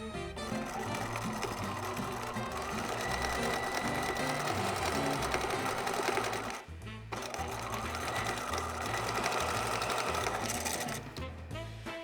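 A sewing machine stitches fabric in a steady mechanical whirr, running nearly unbroken with one brief pause midway and a short stop near the end.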